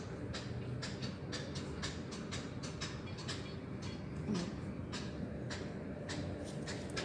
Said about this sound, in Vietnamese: Mà xa xa đằng kia là hình như là xe lửa.